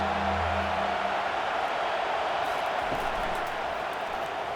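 Stadium crowd noise in EA College Football 25 during a Tennessee Volunteers at Ohio State Buckeyes playoff game, a steady, dense roar of cheering fans building on a big third down, loud and continuous throughout.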